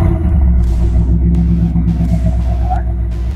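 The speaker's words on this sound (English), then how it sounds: "when you start it up or even step on the accelerator or even just get this thing going, people will hear you." A 2021 Shelby GT Premium with quad exhaust and Edelbrock supercharger rumbles at idle, a deep, loud, throbbing V8 burble close by, with someone talking over it.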